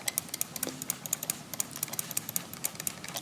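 Quick, light clicks from a computer mouse used while editing in Photoshop arrive in an uneven, rapid string, soft and close against a quiet background.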